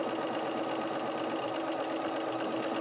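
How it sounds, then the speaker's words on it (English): Bernina 350 sewing machine stitching a keyhole buttonhole, a continuous close rapid mechanical hum and needle chatter at a steady even pace with no talk. "It's going to go ahead and do the keyhole at the bottom and then stitch back to where it started."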